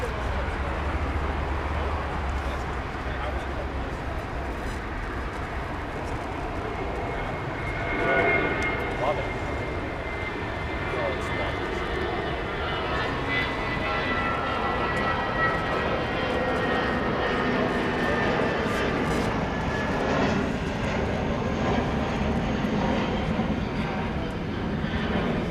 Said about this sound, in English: A little bit of JetBlue there off to Baston, flight 288,